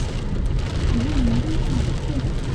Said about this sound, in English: The Suzhou rain is heavy.